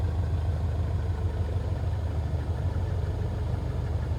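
Bucker Bu-131 Jungmann engine idling in Microsoft Flight Simulator, a steady low throbbing drone with a fast regular pulse, close and continuous with no voices.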